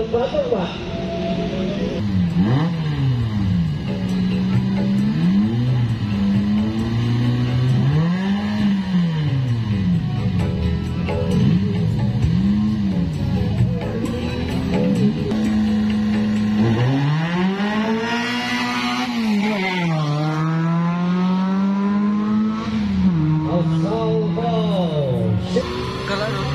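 A Toyota Fortuner engine revving repeatedly, loud and close, its pitch climbing and falling in rolling waves with a sharper, higher surge late on, under a steady background of voices.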